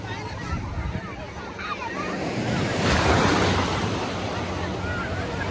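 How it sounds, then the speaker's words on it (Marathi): Ocean surf rolls and crashes steadily on the beach at Alibag, a broad rushing wash that swells to a louder break midway, with wind buffeting the microphone throughout. "लाटा बघा असे येतात बेकार लाटा येतात"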